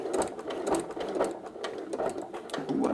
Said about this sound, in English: I'm not sure if my sewing machine can handle it, but I'm gonna try